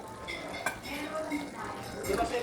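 Menudo ingredients sauté in a pan, with a gentle sizzle under scraping and clinking of a utensil against the pan, while a voice talks quietly in the background.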